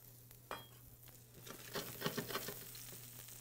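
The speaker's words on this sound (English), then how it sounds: "grab my shallot, okay, and go right to my pan with it" Shallot hitting a hot pan and starting to sauté, a quiet, soft sizzle with scattered light taps and stirring scrapes building over a few seconds.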